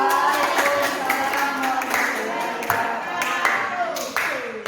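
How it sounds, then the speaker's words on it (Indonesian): A class claps hands together in a steady, fairly loud patter that continues throughout, with a busy classroom murmur underneath. "Oke, tepuk tangan"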